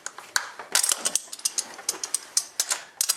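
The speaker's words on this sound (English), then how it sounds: "Just loosen the crown nut up like so." A ratchet wrench loosens the rear axle crown nut on a 2009 Kawasaki KLR650 motorcycle, giving a close series of quick metallic clicks in irregular bursts, with no talking.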